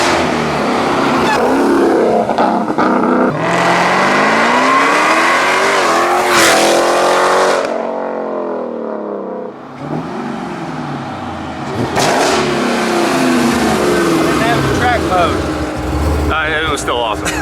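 A 1200hp Jeep Trackhawk SUV engine roars loudly and continuously, rising and falling in pitch as it accelerates hard, with a brief lull midway, while people talk over it.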